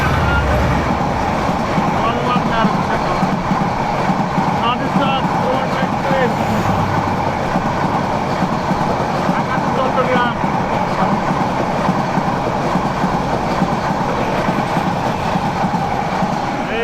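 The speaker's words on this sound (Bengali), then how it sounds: "ঢাকার দিক থেকে কিন্তু ট্রেন আসতেছে" Suborno Express, arriving from the Dhaka direction, rumbles past Fazilpur railway station in a loud, steady roar of wheels and carriages that holds for the whole stretch, with faint clatter over the top.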